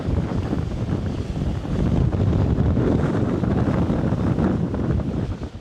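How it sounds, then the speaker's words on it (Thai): Strong, steady wind buffeting the microphone over a broad roar of surf and waves on the sea coast at Khao Laem Ya National Park, Rayong, Thailand, no voices. "ที่คลื่นลมค่อนข้างแรงนะครับ"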